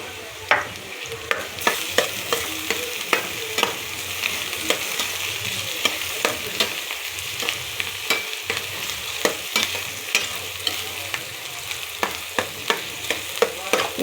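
Ginger garlic paste fries with potatoes and onions in a pan, a steady loud sizzle broken by repeated scraping stirs of a spoon at an even rhythm, close up and with no voices.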